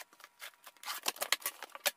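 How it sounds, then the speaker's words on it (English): Blade slicing through packing tape on a cardboard box holding a heavy-duty rolling pizza oven table, a run of quick crisp rips and snicks, close and fairly quiet, with no talking. "And cut the tape off of this thing."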